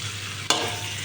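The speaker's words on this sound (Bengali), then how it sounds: "আগে সবজিগুলো কষাই নেই ভালো করে।" Vegetables sautéing in a pan give a steady close sizzle, with a sharp burst of crackle about halfway through as they are stirred, and no voices.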